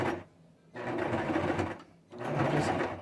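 A sewing machine stitching along the very edge of a fabric face, neck and ear warmer, running in two close bursts of rapid whirring with a short pause between.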